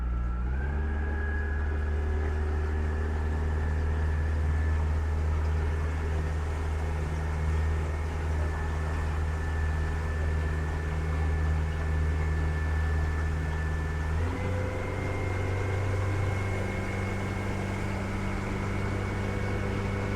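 A Yamaha 90 outboard on a Hewescraft Sportsman 200 boat drones loudly and steadily, holding a constant pitch before stepping down to a lower note partway through, with no voices.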